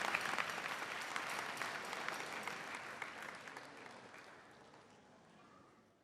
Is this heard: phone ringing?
no